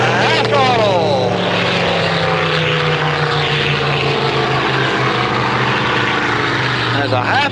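Racing powerboat engines roar steadily through a boat race, a loud continuous drone with shifting pitch as boats pass, while an announcer talks over it throughout.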